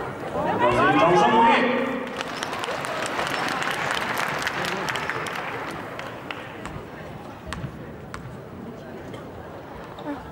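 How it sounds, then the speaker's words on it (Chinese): Audience applause fills a women's basketball arena at a WCBA game between Xinjiang and Shanghai, a steady wash of clapping running for several seconds beneath an announcer's voice over the loudspeakers. "掌声鼓励"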